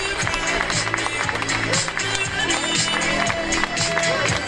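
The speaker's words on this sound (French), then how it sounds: "Alors je crois qu'on peut vraiment l'applaudir." A crowd applauds a cyclist on the podium at the Super Planche des Belles Filles stage finish, a steady, dense wash of clapping and cheering that runs under continuous commentary.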